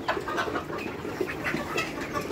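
Several hens cluck in short, repeated bursts, close by and overlapping, with soft background farmyard noise.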